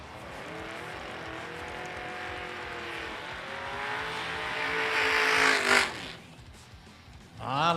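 Harley bagger motorcycle making a drag race run at a nitro drag meet, engine roaring loud and steady with rising pitch as it accelerates, peaking sharply near the end before falling away, then a brief burst again.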